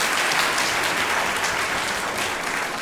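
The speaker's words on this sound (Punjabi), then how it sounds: "ਤਾੜੀਆਂ ਮਾਰ ਦਿਓ ਘੱਟੋ ਘੱਟ ਇਹਨਾਂ ਲਈ।" Steady applause from a crowd at an inter-college youth festival quiz, a dense even clatter of many hands that holds at full strength for a few seconds with no voices.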